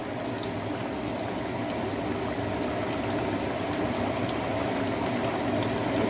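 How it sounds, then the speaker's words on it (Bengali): A pot of pabda fish curry with potatoes at a rolling boil, giving a continuous, even bubbling and hiss with no breaks throughout. "দেখো আমার মাছ দেওয়ার পরে ঝোলটা কিন্তু ফুটে গেছে খুব ভালো করে"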